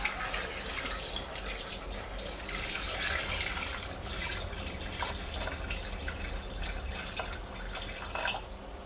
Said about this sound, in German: Und zu guter Letzt 1000 Gramm kaltes Wasser.